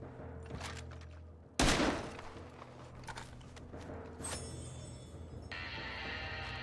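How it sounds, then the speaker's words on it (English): A single sharp, loud gunshot fires in a video game to blast open a wardrobe lock, followed by quieter clunks and a steady hum from the game. "I'm gonna shoot open the lock."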